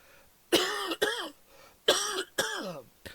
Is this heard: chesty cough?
yes